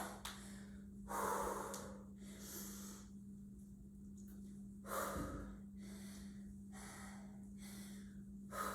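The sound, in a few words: heavy breathing during a workout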